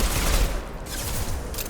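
A concussive shot fired in the video game Mass Effect 2 comes through as a dense, loud burst of blast-like gunfire filling the short moment, with no talk.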